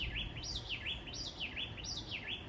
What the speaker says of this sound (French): les oiseaux, ils sont en roue libre